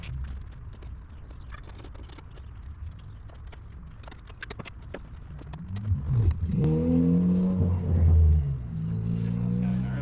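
A Ford Fiesta or Focus with a 1.7 liter turbo engine revs up loudly nearby, rising harmonic engine tones swelling in the second half over a steady rumble, with earlier clicks and handling noises.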